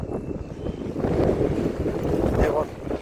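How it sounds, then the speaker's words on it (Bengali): Strong wind buffets the microphone in an open area, a heavy, gusting rumble that swells and eases over a few seconds, with a voice faintly mixed in. "এখন বাতাসে ওদেরকেও উড়াই নিয়ে যেতেছে। বাতাস।"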